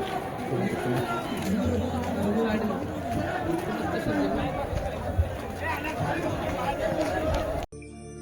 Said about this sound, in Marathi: गर्दी असेल, गर्दी असणारच.